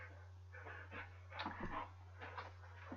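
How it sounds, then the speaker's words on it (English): A German Shepherd crossed with Collie dog whimpering and snuffling quietly indoors, with a few soft short sounds over a steady low electrical hum. "German Shepherd crossed with Collie."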